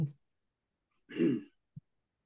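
A single throaty cough stands alone in a quiet room, followed moments later by a brief soft grunt.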